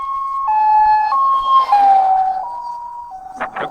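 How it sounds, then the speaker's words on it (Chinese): An ambulance siren wails past on a mountain road, loud and close, stepping between tones before fading and giving way to a burst of noise at the end. "这过去了一辆救护车"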